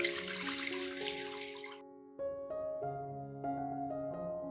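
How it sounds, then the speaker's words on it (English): Water poured into a cooking pot for poaching eggs: a short rushing stream that cuts off after a couple of seconds, with background music playing throughout. "Water to the pot."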